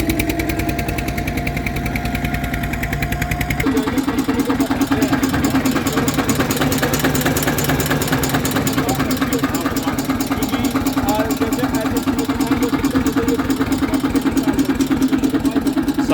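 A 1992 Eicher 242 tractor engine idles with a rapid, steady diesel chug, loud and close, its knocking rhythm continuing throughout after a brief change in tone early on.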